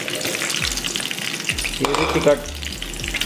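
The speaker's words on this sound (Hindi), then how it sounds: "अब हम इसमें फ्राई करेंगे हमारी भिंडी" Okra (bhindi) frying in hot oil with a steady, close sizzle, punctuated by a few low thumps and clatters from the pan, with a brief word spoken over it.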